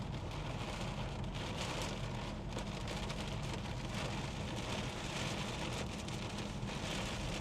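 Heavy rain hammers down continuously during a storm chase through a hail core, a dense, loud roar of drops on a vehicle with faint rumbles beneath and no talking.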